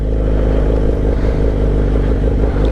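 A motorcycle pulls away as the clutch is released and throttle is added, a loud, close, steady engine drone with a low rumbling beat and some mechanical clatter, without talk.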